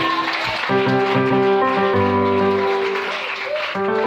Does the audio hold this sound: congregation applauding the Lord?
yes